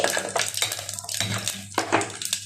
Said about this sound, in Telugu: ఆయిల్ కాగింది ఆవాలు మెంతులు జీలకర్ర మెంతులు ఆవాలు మెంతులు జీలకర్ర వేసుకున్నామండి